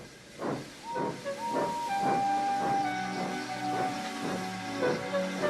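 A steam locomotive in the Trainz train simulator game runs with rhythmic, repeating chuffs of hissing steam and a thin tonal whistle-like line, loud and continuous without talk.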